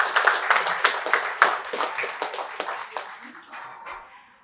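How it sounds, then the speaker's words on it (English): Scattered hand claps from a small audience at the launch of a school robotics program, fairly close and irregular, tapering off over a few seconds, with voices murmuring underneath. "can we give them a round of applause for help for being in the training?"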